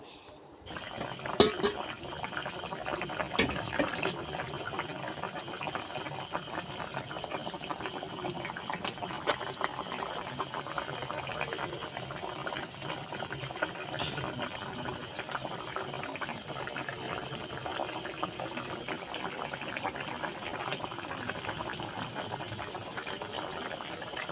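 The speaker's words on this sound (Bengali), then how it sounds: "তো এই পর্যায়ে আমার তরকারিটা আরও কিছু সময় একটু ফুটিয়ে নেব" Hilsa fish curry with green banana simmering in a pot on the stove, a steady bubbling and hissing boil that runs on evenly at low volume with faint kitchen noise.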